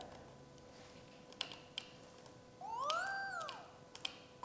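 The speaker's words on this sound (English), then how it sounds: "Just pet the cat." A cat meows once with a rising and falling cry when petted in a retro-style 3DS video game, heard alone among a few sharp clicks and ticks in a quiet scene.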